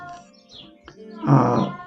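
A pet cat gives a short meow near the end, loud and close after some quieter soft sounds, with no talk.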